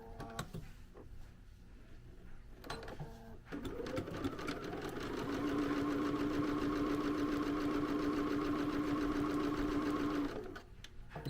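A Bernina sewing machine stitching a line on the thumb of a small oven mitt, a steady close mechanical whir with rapid needle clatter that runs for several seconds, framed by brief fabric handling and a few words of talk.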